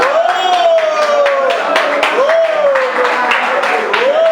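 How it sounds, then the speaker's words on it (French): An audience applauds an honorary committee member at a community gathering. Steady clapping runs throughout, blended with a sustained, gliding voice-like tone. "Je voudrais encore qu'on l'acclame une fois."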